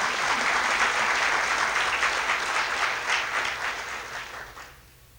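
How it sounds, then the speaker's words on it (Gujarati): An audience claps together in sustained, dense applause that holds steady, then gradually thins and fades toward silence near the end. "એના માટે પહેલાં તાળી પાડો"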